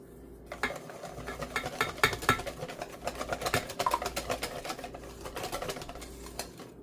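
A spoon clatters briskly against a bowl as batter with a half teaspoon of salt is stirred, a close, rapid run of clinking taps lasting several seconds, with no talking.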